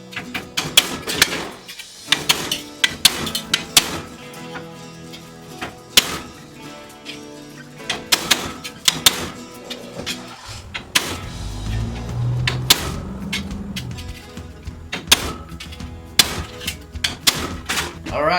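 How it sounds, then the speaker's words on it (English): Big hammer driving a chisel into metal for a pumpkin sculpture, a series of sharp, loud metallic strikes at an uneven pace, close by, with workshop noise between the blows. "I think I'm just going to take this chisel,"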